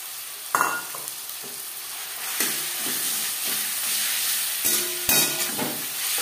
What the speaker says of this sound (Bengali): 2-3 মিনিট নাড়াচাড়া করে নেওয়ার পর দিয়ে দেবো ম্যারিনেট করে রাখা চিকেন।